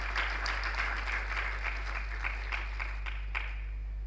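An audience applauds a panel at a Nigerian conference on climate change and the green economy: steady, moderately distant clapping for about four seconds over a constant low electrical hum.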